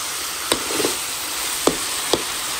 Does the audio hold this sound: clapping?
no